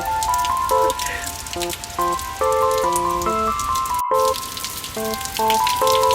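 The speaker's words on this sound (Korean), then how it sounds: "비 많이 오는 데 장난 아니에요." Heavy summer rain falls steadily with a dense hiss of drops, partly covered by a stepped, tinkling melody that plays throughout.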